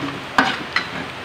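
Ground candlenut and garlic spice paste frying in a pan, a steady soft sizzle with two quick stirring scrapes close by.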